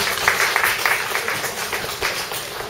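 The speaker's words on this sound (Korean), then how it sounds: "박수로 환영하실까요?" A church congregation at a Sabbath service claps to welcome a guest, a moderate and fairly even spread of many hands heard at a distance in a large room.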